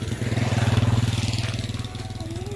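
A motorcycle engine runs steadily on a road, its pulsing mid-low throb loud and close, easing slightly toward the end with faint voices underneath.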